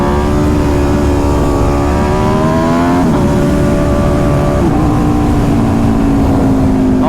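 An Aprilia RSV4 sport bike with an ECU flash tune revs hard and loud under throttle, its engine note climbing and wavering over several seconds with no talk.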